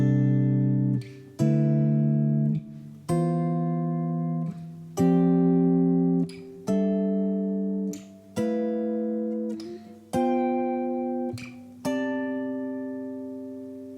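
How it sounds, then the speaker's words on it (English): Guitar strumming fifths chords built on the major scale, eight ringing chords struck one after another at a steady slow pace, each left to sustain and fade before the next, close and clear with no talk. "So here's how fifths sound."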